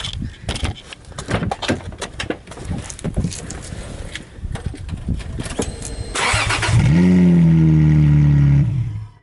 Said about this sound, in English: I'm curious to see what it sounds like with no exhaust